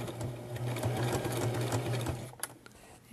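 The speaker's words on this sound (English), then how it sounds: "Alright, so now I'm going to sew forward," A home sewing machine stitches forward while making a baby hat and bib, a steady, close mechanical whir with a fast rhythmic stitching pulse that stops near the end, leaving a few faint clicks.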